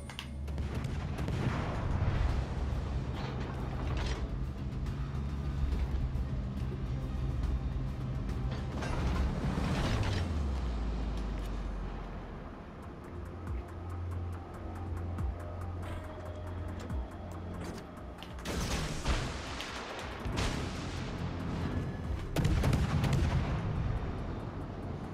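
Warship guns fire in World of Warships: Legends from a Tier 5 Leone in a PvP battle, with several loud booming salvos spread over a rumbling mechanical background and no speech.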